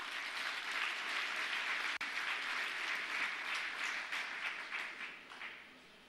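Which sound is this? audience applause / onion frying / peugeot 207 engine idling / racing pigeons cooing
audience applause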